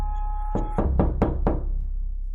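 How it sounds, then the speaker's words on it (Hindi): Five firm knocks on a door in a cartoon, in a quick irregular run, close and loud over a low steady background hum, with no talk. "दरवाजे के पास पहुंचते ही सोन दरवाजे को खटखटाता है।"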